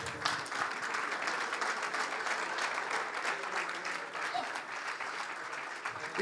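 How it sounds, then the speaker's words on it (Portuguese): Audience applauding at a football club's Club Day celebration as an artist is called up, steady dense clapping throughout, loud and sustained with no voices over it. "Uma salva de palmas para ele."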